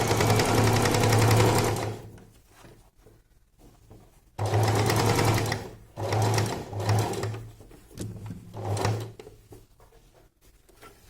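Sewing machine stitching a fabric pad, close and loud in bursts: a long run, a pause, then several shorter runs of rapid needle hammering separated by quiet gaps.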